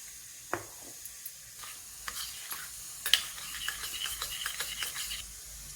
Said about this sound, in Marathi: आपण अशा पद्धतीने पाण्यामध्ये हे मिक्स करून घेत आहोत